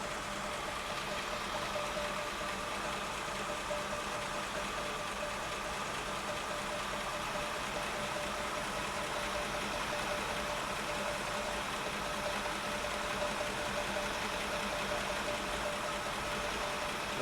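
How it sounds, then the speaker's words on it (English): A 1974 Chevrolet C10 engine with a rebuilt Edelbrock 1406 carburetor idles steadily and close by, an even, continuous running tone with no talk over it. "we're going to bring the idle up with your base idle screw"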